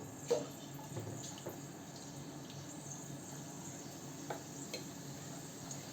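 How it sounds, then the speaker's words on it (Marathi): Gram flour batter dropped into hot oil for frying red chutney in a home kitchen: a soft, steady sizzle with faint bubbling and a few light clinks, heard quietly without talk. "आपलं तेल तापले, तेलामध्ये आपण पीठ सोडून घेऊ."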